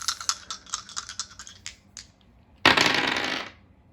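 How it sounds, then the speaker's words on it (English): Dice rolled during a tarot reading: a run of light clicking taps, then a dense, loud rattling burst of about a second as they tumble and settle, close by with no talking. "I'm going to start out by rolling the dice"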